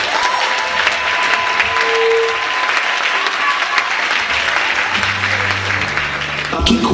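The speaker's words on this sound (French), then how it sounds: "Acclamons notre Dieu." A church congregation gives loud, sustained applause and cheering in acclamation of God, dense clapping filling the space evenly throughout, with voices mixed in and a few low tones near the end.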